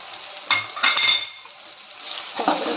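Dal being stirred in a pot with turmeric, ginger and salt added, a few close clinks and scrapes of a spoon against the metal pot over a faint background hiss.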